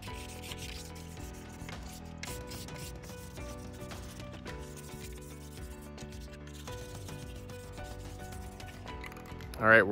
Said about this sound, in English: it's time to get some sanding done